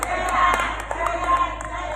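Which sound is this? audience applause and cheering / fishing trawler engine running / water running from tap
audience applause and cheering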